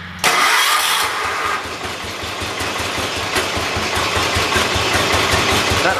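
A John Deere 212 lawn tractor engine cranks and catches, then settles into a steady, low, rumbling idle that stays close and fairly loud to the end.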